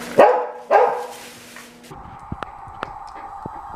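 A dog gives two sharp barks up close, followed by lighter clicks and knocks at a quieter level.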